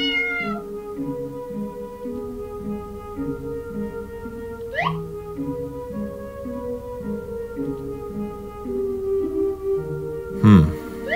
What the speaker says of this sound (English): There's a cat down here.